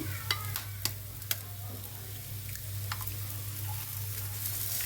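An egg sizzles steadily on a ragi wheat dosa in a hot pan, close and even throughout. A few light clicks of a utensil sound against the pan, and nobody speaks.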